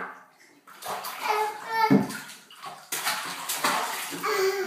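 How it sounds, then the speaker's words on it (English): Water splashes in a bathtub in irregular bursts of sloshing and slapping, close by, with a voice and an adult's voice heard over the splashing. "Splash is okay. Splashing is good."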